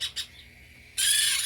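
A baby hybrid conure parrot, handled for leg banding, gives two quick, sharp calls close by, then breaks into a loud, harsh, sustained squawk.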